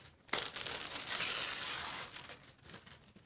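Paper torn by hand to make a confetti cake topper, a sudden loud rip followed by about two seconds of continuous crinkling and tearing, then softer rustling as it fades.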